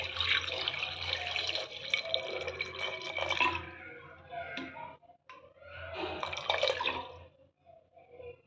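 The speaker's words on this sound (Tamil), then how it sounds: "தண்ணி இது முழுகிற மட்டும் விட்டால் போதும்." Water pours from a tap into a pressure cooker holding sweet potatoes, a loud close gushing that runs for a few seconds, briefly stops, then resumes.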